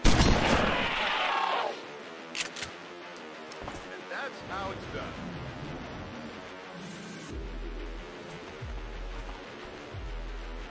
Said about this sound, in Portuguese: então vamos dar um tiro normal com o Slug